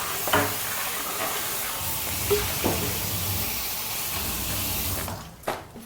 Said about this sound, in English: Putting sauce in a pan with no oil.